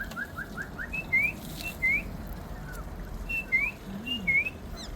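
Short rising whistled chirps repeat in quick bursts during a backstage animal encounter at SeaWorld Orlando, moderately loud over a steady background rumble.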